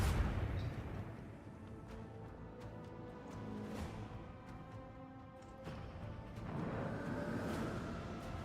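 Torpedoes launch and explode in a video game, heard as dull booming blasts and rumbling detonations under a low, steady background.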